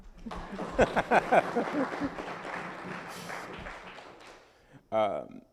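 An audience at a lecture on civil rights and democracy claps briefly on request, a short burst of scattered hand claps, with speech continuing around it.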